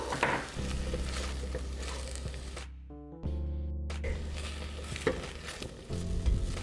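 Three cloves of chopped garlic frying in a pan with softened onion for broccoli soup, a steady close sizzle interrupted by a brief gap, with stirring and scraping throughout.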